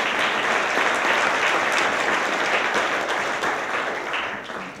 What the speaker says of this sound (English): A big round of applause for Bob and Roseanne Hunter